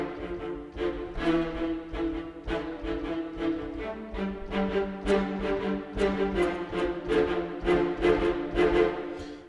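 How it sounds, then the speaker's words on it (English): Metropolis Ark 5 high strings in a short-articulation master patch play a rhythmic run of crisp, detached staccato notes over a sustained lower harmony, moderately quiet and unaccompanied by voice. "starting with the high strings short master"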